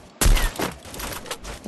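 Gunfire in an online shooter game tournament, a sudden loud burst of rapid shots that opens with a heavy low thump, then a few more cracks trailing off over about a second and a half, with no talk.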